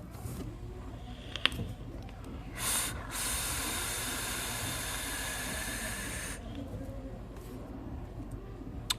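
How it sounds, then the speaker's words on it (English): Rebuilt 24-gauge Kanthal vape coil fired in a steady, close hiss lasting several seconds, preceded by a short burst and a click, with no talking. "Alright, let's give it a blast."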